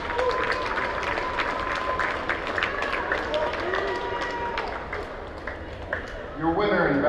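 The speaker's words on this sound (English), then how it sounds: "May we get a big round of applause for both of these boxers." Crowd applause for two boxers at a US Olympic Trials amateur bout, a dense wash of clapping and cheering in an arena, with an announcer's voice and a bell ping over it.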